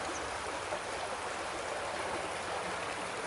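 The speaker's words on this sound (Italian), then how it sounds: "sempre sul fiume Soligo" Steady rushing flow of the Soligo river, a continuous broadband wash of moving water heard up close and fairly loud along a riverside mountain-bike route, with no voices.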